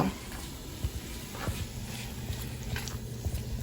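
Bacon frying in a skillet after rendering its fat, a faint steady sizzle with occasional soft taps and scrapes.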